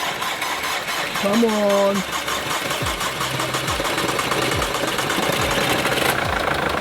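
A 2014 Mercedes GLA engine cranks and fires, then settles into a steady idle, close and fairly loud, while people talk over it.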